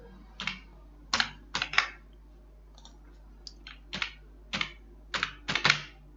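Typing on a computer keyboard while entering conditions into an Excel spreadsheet: clusters of clicky keystrokes in short bursts with pauses between them, close and fairly quiet, no talking.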